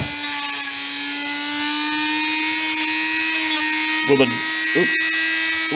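A Dremel cutting blade whines at a high steady pitch while slicing a Honda Goldwing handlebar riser part, close and continuous, with brief clatter near the end.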